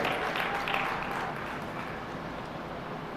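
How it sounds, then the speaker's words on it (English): An audience at a goat show applauds three goat exhibitors with a short burst of clapping that is strongest at the start and then fades into a softer, sustained patter. "Give all 3 of these exhibitors one round of applause."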